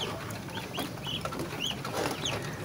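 A group of one-month-old muscovy ducklings gives repeated high, chirping peeps while feeding on tempe dregs. The calls overlap and come close and clear over a busy farmyard background, with no talking.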